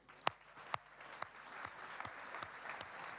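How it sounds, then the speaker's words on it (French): Sparse, scattered claps from a small audience honouring entrepreneurs at an awards ceremony, a few sharp individual claps standing out over a thin patter, fairly distant and quiet. "On les applaudit."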